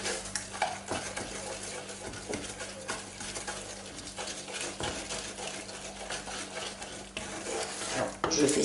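Homemade play dough mixture is stirred in a pot over medium heat, a steady close scraping and soft swishing of a utensil against the pan, with faint frying-like crackle underneath and no talk.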